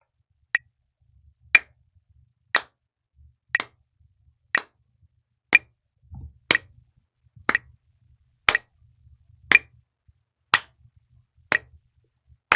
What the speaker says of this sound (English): Now, I'm going to clap 1 hertz.